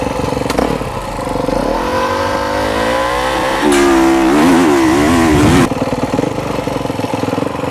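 A motocross motorcycle engine idles and revs at the start gate of a race, loud and close, with the pitch rising and falling through a sustained blip of throttle midway before settling back.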